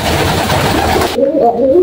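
A loud, steady wash of noise gives way to a close pigeon's low, rolling coo that swells toward the end; a male kolong pigeon.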